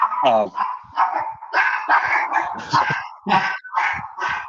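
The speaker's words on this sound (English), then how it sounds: "sorry, my dog." Small dog yipping and barking in a rapid, repeated string of short barks, close and fairly loud, with a brief whimpering note near the start.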